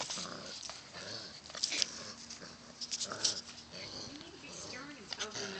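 A dog growls low and grumbles up close, with bursts of snarling and whimpering mixed with a person's voice.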